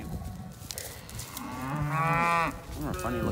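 A dairy cow lows in a barn, one strong drawn-out moo rising through the middle over background rustling, with a shorter grunt trailing after.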